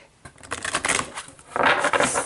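Tarot cards being shuffled by hand during a tarot reading, a quick burst of papery riffling and flicking that starts quiet, then turns louder and more continuous in the second half, with no talk.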